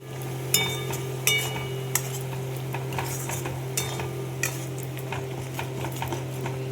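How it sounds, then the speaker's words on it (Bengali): Cumin, chili powder, turmeric and salt sizzle quietly as a spice paste for a bhola fish dish is stirred in a pan, with a spatula clinking against the metal every second or so over a low steady hum. "মশলাটা কষিয়ে নেব।"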